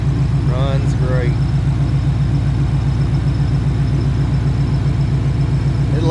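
A car with a Coyote V8 engine swap idles on open headers, giving a loud, steady, lumpy low rumble with a rhythmic pulse right up close. Brief voices rise over the engine near the start.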